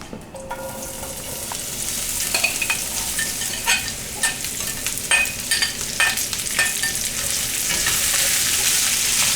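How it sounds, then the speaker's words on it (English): Potato pieces fry in oil in a pan with a steady, bright sizzle throughout, broken by repeated scraping taps of a utensil stirring them, close up and without talk. "just get enough in there so that the potatoes will have something to fry"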